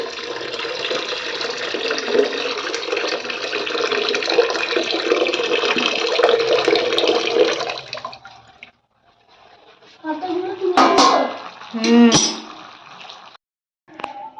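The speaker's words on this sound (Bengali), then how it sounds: "জলটাকে এবার ছেঁকে নিয়ে আর ঢেলে দেবো" Green lemon-leaf boiled water strained and poured out: a long steady rush of falling water, then a pause and a few shorter splashing pours with gurgles, close by, with a voice in the background.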